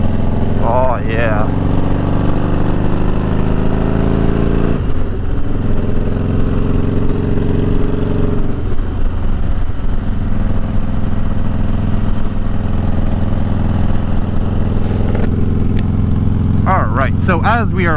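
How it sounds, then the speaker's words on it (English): A motorcycle engine drones steadily and loudly while riding, with a voice talking over the exhaust throughout. "hopefully y'all can hear me over the exhaust on this thing"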